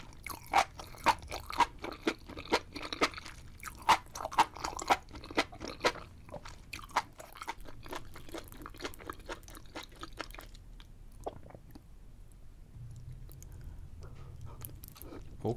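Loud, close crunchy chewing and biting in ASMR style, like chomping on uncooked dry pasta, with a rapid run of sharp crunches that thins out into softer, sparser chews near the end.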